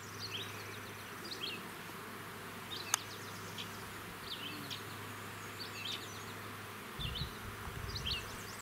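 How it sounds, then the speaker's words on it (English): Bees buzz around beehives on a sunny day after heavy rain, a steady droning hum with faint chirps and a brief knock in the middle. "I'm sure the bees will be very happy bees today."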